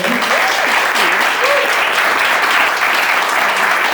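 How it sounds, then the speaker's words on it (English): Steady, dense applause from a crowd, continuous clapping throughout with no voices standing out. "Please give her another round of applause."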